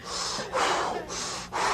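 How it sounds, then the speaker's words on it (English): A man draws in deep breaths and lets them out, close to the listener: two long cycles of loud, rushing airflow through the nose and mouth, separated by brief pauses, with no talking. "And start breathing deep."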